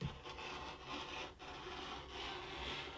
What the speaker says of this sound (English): I am cutting out 2 scrub hats at a time.